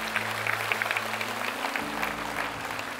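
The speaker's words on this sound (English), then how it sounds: "let's give a big hand clap to those who just prayed" Applause from a church congregation at a Sunday service, a steady wash of clapping held at moderate level for the full stretch while low sustained tones, likely an organ or keyboard, sound beneath it.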